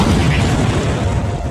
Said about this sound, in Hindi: जब कोई व्यक्ति या वाहन इसके ऊपर दबाव डालता है या इसके नज़दीक से गुजरता है तो इसमें विस्फोट हो जाता है